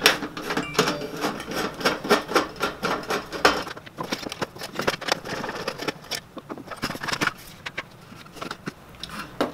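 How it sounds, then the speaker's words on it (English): Screws are being removed from a metal shop light fixture, with close, rapid ratcheting clicks and scraping taps repeating in quick bursts. "Step one is to remove the two screws, one on each side, so we get inside to where the wiring is."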